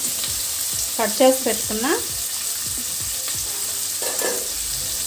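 Capsicum pieces fry in a pan for a field bean masala curry, giving a steady sizzling hiss throughout, with a brief stretch of talk partway through.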